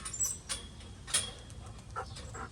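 A pet dog named in a home garden whimpers and yips in short, high-pitched bursts at close range, separated by brief pauses over steady outdoor background noise.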